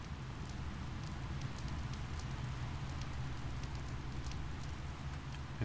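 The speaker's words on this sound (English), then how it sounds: "It's raining." Steady rain falls in a survival horror video game, a constant dense patter with a low rumble underneath, unbroken and fairly even from start to finish with no voices.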